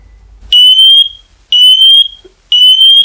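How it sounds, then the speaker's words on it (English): A smoke detector on test shrills at full real volume in three sharp, steady high-pitched bursts, each about half a second long, separated by silences, with nothing else audible. "what I want to show you is that the volume of the smoke detector can be heard"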